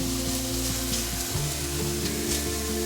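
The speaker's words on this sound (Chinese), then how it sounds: "把香菇鋪平，讓它稍微煎一下表面" Shiitake mushrooms sizzle and crackle steadily in hot oil in a pan, a constant close frying hiss without voices.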